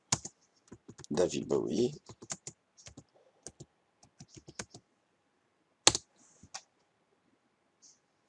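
Keys clack on a computer keyboard as a search query is entered, a sparse run of crisp single taps with brief pauses and one louder click later, close and quiet, with a short stretch of speech near the start.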